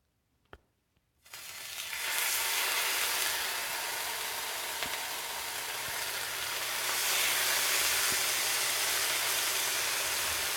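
Steak for steak moutarde searing in a hot pan: after a brief clatter, a loud, steady hiss of sizzling fat begins abruptly and keeps going without pause.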